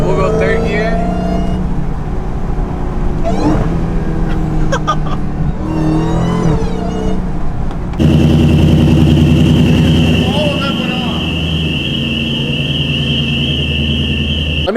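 A Dodge Hellcat engine accelerating hard in third gear, a loud rising roar with a whining note heard from inside the car, with voices talking over it early on.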